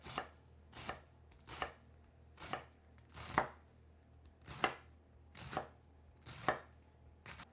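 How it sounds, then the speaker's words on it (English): A knife chops stacked cabbage leaves on a cutting board for Finnish cabbage rolls, about a dozen crisp, evenly spaced thuds close by, with quiet gaps between strokes and no talking. "we're just going to chop it up"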